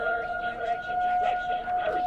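A siren going off, a faint steady two-tone wail holding level throughout, with a murmur of background sound beneath it.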